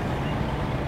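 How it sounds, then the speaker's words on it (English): A heavy rumbling vehicle engine from an enemy tank in PlanetSide 2, a short, loud, continuous low growl lasting under a second with no voices. "There's an enemy tank right there."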